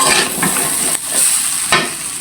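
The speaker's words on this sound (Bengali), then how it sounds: "এখন বসাইলাম পোলাও।" Pulao rice cooking in a pot, a loud close sizzle with intermittent scraping stirs marked by sharp bursts of hiss, no voices.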